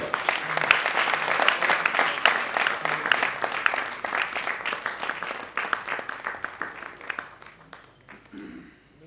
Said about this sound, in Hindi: ताली इस पे बढ़िया से बजा दीजिएगा।